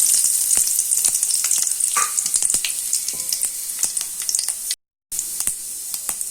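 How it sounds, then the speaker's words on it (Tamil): Fennel seeds crackle and pop in hot oil, a dense close sizzle with sharp scattered spits, briefly cut to silence near the end before resuming. "சோம்பு மட்டும்தான் நான் போட்டு தாளிக்க போகிறேன்."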